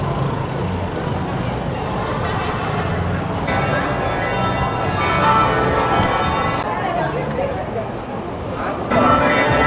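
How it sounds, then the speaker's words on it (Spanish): Church bells ring continuously in the distance amid a busy outdoor street ambience in Guatemala, with voices and traffic rumbling underneath. "Están sonando las campanas."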